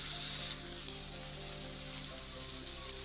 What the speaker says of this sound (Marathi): टोमॅटो सुद्धा आपल्याला असा थोडासा मऊ होईपर्यंत चांगला भाजून घ्यायचा आहे